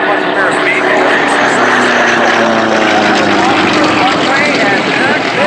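A Russian Sukhoi Su-29 aerobatic propeller plane flies by at an air show in Madras, its loud, continuous engine drone holding throughout with a shifting pitch as it passes.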